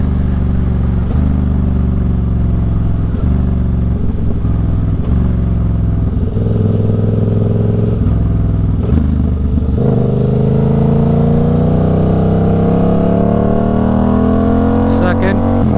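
A 2024 Suzuki GSX-8R parallel-twin motorcycle with a Toce exhaust idles with a deep, beefy burble. Its sharp blips give way to a long rev that climbs steadily in pitch, loud and close throughout.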